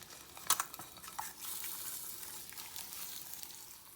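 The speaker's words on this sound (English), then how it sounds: "we're gonna tilt the egg to the edge of the skillet and then give it a light flip" An egg frying in a skillet, with a sharp clack as it is tilted and flipped early on, then a steady bright sizzle that continues alone.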